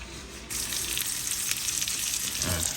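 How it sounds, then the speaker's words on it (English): Wahoo or similar fish fillet hits a hot pan with butter and bursts into a loud, steady sizzle that continues close and unbroken, with a faint low clatter near the end. "Right now we just want to get a nice sear"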